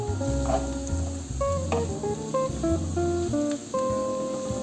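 Garlic sizzles in a frying pan with browned onions, a steady hiss carrying through with some clatter of stirring, close and fairly loud, with no talk.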